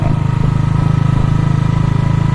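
A 125cc gasoline motorcycle engine drones loud and close while riding, its steady rapid pulsing throb filling the whole moment without speech.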